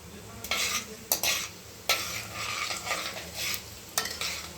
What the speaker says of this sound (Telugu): ఫస్ట్ మనం తాలింపు గింజలు, ఎండుమిరపకాయలు వేసేసుకుందాం